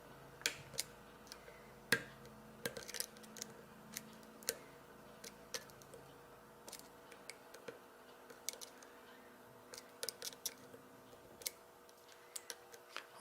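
Single-pin picking of a lock, with faint scattered metallic ticks and clicks at irregular intervals over a quiet background, close and delicate.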